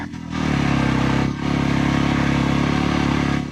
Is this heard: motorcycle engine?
yes